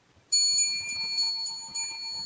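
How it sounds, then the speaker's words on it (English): A handheld bell rings with bright, clear metallic strikes, about six shakes in an uneven rhythm after a quiet start, each chime ringing on briefly and sounding close and loud. "So let me get my bell ready."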